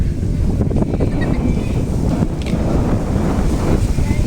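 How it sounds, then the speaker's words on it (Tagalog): Strong wind buffets the microphone at a free fishing spot in San Miguel, Calumpit, Bulacan, a loud continuous low rumble with gusty surges and faint voices underneath. "Ang lakas na ng hangin."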